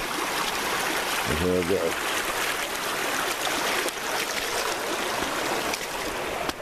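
A creek flows steadily nearby as a continuous rushing wash, while someone speaks briefly over it early on.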